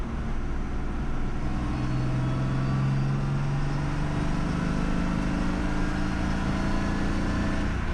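A BMW E46 fitted with a centrifugal supercharger accelerating, a loud continuous engine drone with rising tones and steady road and wind roar, heard from inside the car with no talking.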